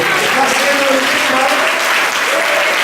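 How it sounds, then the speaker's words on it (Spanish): A church congregation applauds loudly and continuously during a Sunday service, dense crowd clapping throughout with voices mixed in underneath. "denle un aplauso a la palabra de Dios"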